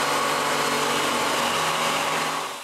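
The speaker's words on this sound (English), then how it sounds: "Then I drill a small hole, so I know where to drill a bigger hole from the back" A power drill boring holes in wood for electrical boxes runs loud and steady from close by, then begins to wind down near the end.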